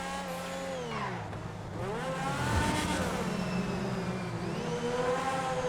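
A revving Lampadati Tigon car engine in GTA Online rises and falls in pitch, with a thin high-pitched supercharger whine riding above the exhaust note.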